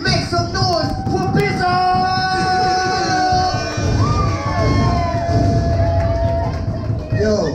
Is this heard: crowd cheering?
yes